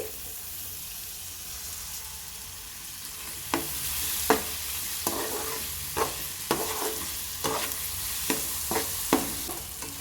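Fish curry base with ginger-garlic paste and tomato frying in a pan, a soft hissing sizzle with a series of scraping stirs that start a few seconds in and recur every half second or so, fairly quiet and close.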